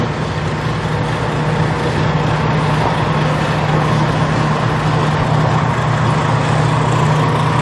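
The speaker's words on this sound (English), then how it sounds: "Turn on the mixer. I'll now start the turbo shear." Turbo shear mixer running inside a 316 stainless steel jacketed kettle, a steady continuous motor whir with an even hum, loud and unchanging throughout with no talk.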